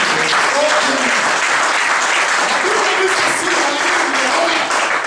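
A church congregation applauds steadily throughout a worship service, a dense, sustained wash of clapping from many people, with voices mingled in beneath it.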